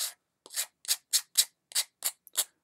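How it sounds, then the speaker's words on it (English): Close, crisp sandpaper strokes rasping over soft basswood, about nine separate short swipes with brief silent gaps between them, no talking. "sanding away all my pencil lines that I've drawn on there"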